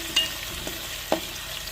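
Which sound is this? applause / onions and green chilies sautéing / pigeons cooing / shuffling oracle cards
onions and green chilies sautéing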